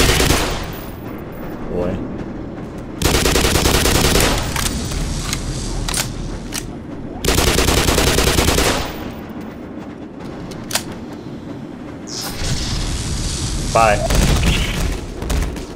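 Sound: gunfire in a video game

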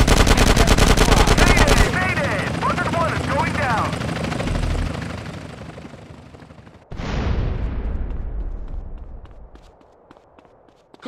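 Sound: helicopter and gunfire in video game GTA San Andreas

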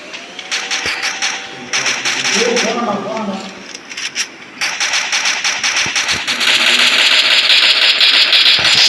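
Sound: vehicle engine in Free Fire video game

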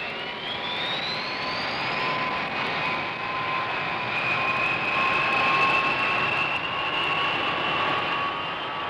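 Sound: B-52 bombers' jet engines on the ground

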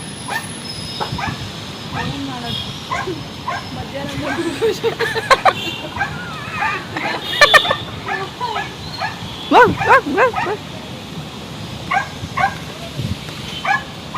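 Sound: puppy barking and whimpering

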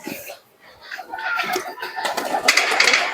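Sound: pigeons in a rooftop loft

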